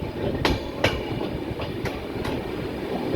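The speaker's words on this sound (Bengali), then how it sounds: "ট্রেনের গতি কমে গেল" A passenger train climbing toward Araku slows on the uphill grade. Its wheels clatter at a steady pace, with sharp clicks from rail joints recurring at irregular intervals over a low rolling rumble, and no speech.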